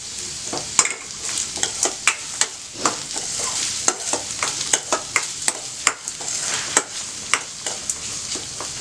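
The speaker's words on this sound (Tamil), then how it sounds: "நல்லா வதங்கட்டும். இந்த ஒரு 4 மிளகு போடுறேன்." Onions and peppercorns sauté in a pan for egg idli upma, with steady sizzling broken by regular sharp clicks of a spoon stirring against the pan, close and moderately loud with no talking.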